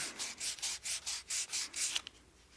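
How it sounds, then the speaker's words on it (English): Sandpaper held in the palm rubs against a wooden whistle spinning on a lathe, a soft rhythmic swish repeating about every quarter second before trailing off, faint and close. "I like to put the sandpaper in my palm and just round that over a little bit"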